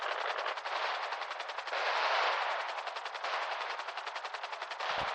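Rapid automatic gunfire in a GTA roleplay video game, a dense sustained burst of machine-gun shots running almost without pause, loud and continuous with no talking.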